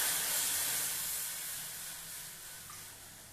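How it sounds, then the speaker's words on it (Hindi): Half a glass of water poured into a hot kadhai hisses and sizzles in a bright, steady spray of steam that slowly fades over a few seconds, with no talking. "उसके लिए मैं पहले कढ़ाई में पानी डाल रही हूँ, हाफ ग्लास।"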